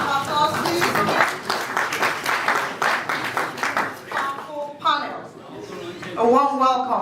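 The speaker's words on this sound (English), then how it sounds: "A round of applause, please." Audience applause at the AGPMPN Lagos 2019 annual general meeting, a steady wash of many hands clapping at once, heard under and between a voice speaking over a loudspeaker.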